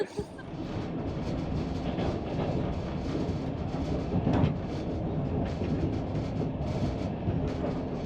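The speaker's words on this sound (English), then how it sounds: "So now I'm on the train leaving Kyiv and heading back to Poland" Passenger train rumbling steadily as it pulls out of Kyiv bound for Poland, a continuous low roar of rail car noise with faint clacks, while voices murmur underneath throughout.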